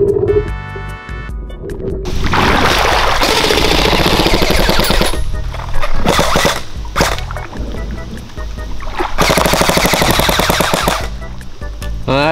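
An airsoft AEG fires underwater with a battery that is running down, giving loud, dense bursts of rattling, churning automatic fire broken by short pauses and a closing stretch of rapid grinding.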